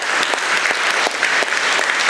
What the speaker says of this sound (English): big round of applause for that man